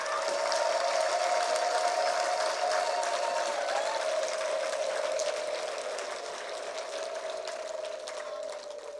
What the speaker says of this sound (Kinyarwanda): Muhe Yesu amashyi yo hejuru